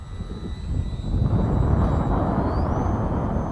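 Highlander light aircraft engine at takeoff power with half flaps, climbing off a snow surface; a steady, loud engine drone rises in intensity after the first second and holds, with no voices.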